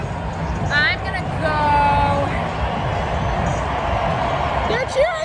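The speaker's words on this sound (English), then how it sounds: "They're cheering for some reason." Stadium crowd at a Monday night Titans vs. Bills football game in Buffalo, a steady roar of cheering and whoops rising and swelling throughout, with nearby voices and babble mixed in.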